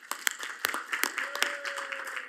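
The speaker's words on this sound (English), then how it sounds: "Give them a round of applause." A small crowd at a city commission meeting claps in scattered, uneven bursts, fairly near, with a faint sustained tone running underneath.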